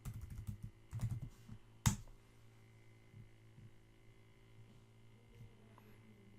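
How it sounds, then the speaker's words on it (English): Computer keyboard typing in a quiet room over a steady mains hum, with a quick flurry of keystrokes early on and one sharp louder tap near the two-second mark before a few fainter scattered clicks. "Let me just type it in there"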